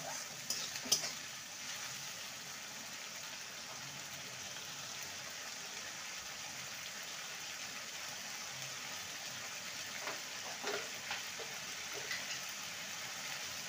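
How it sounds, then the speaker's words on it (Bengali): A masala of tomato and green chilli sautés in a pan for a spicy pumpkin and potato dish, a faint steady sizzle with occasional light stirring taps, close but quiet. "ভালো করে মশলাটাকে কষিয়ে নেব"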